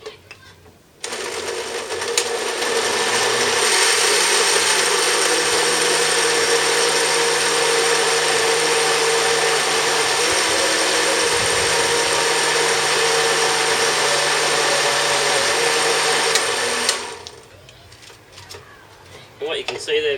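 A blender runs steadily for about sixteen seconds, chopping old pilchards into a thick fishing burley, its motor a loud sustained whine that starts and cuts off abruptly.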